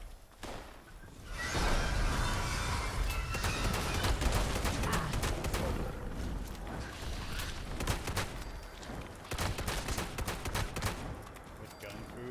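Rapid shotgun gunfire in a video game, a dense run of loud blasts and whooshes that keeps going nearly without a break.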